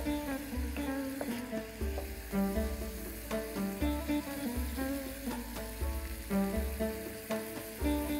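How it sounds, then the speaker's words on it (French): Ingredients for a tajine sizzle and fry in a pan while being stirred, with a steady frying hiss under loud rhythmic background music. "je viens mélanger pour que les ingrédients ne s'accrochent pas"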